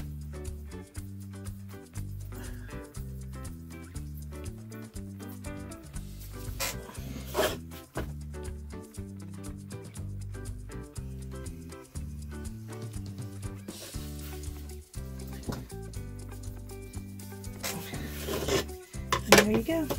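A butterfly sign has all four sides trimmed, a close scraping, rasping sound in repeated strokes with short pauses, steady and fairly quiet.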